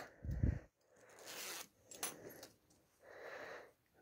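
The zipper on a pocket of a sewn fabric project folder is opened and closed in a few short rasping pulls, close by and fairly quiet, with handling rustle between strokes and no talk.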